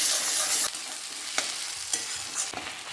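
Loud, close sizzling of ginger garlic paste frying in hot oil with onions in a pan for mutton curry, hissing continuously while a utensil stirs and scrapes at intervals.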